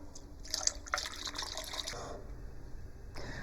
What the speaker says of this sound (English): I'm gonna add about 2 cups of milk.